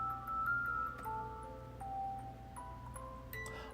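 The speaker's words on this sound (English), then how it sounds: "All right, this is Kirby music," Kirby video game music plays faintly on a stream, a slow music-box-like melody of soft, steady tones that step between pitches over a low background hum.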